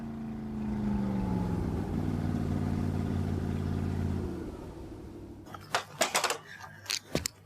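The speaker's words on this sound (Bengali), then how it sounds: "অর্জুনদার বাইকের আওয়াজ না?" A motorbike engine drones loudly and steadily, its pitch sliding as it approaches, then it cuts off and is followed by a few sharp knocks and clatters.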